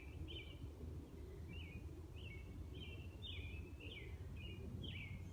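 Birds sing outdoors, a repeated series of short chirping phrases at a steady rhythm, moderately distant over a constant low background hum, with no talk.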